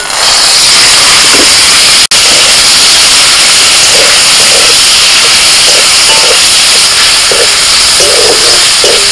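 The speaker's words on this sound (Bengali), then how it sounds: "তেল গরম হয়ে গেছে, চিংড়ি মাছগুলো দিয়ে দিচ্ছি।" Prawns fry in hot mustard oil in a kadai, a loud, steady, close hiss of sizzling that runs without a break, with one brief sharp cut in the middle.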